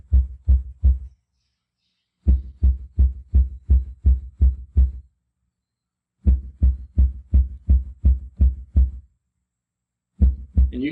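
Subwoofer test tones for CTA-2010 measurement play as loud, deep bursts in groups of four to seven evenly spaced pulses, with short silent gaps between the groups.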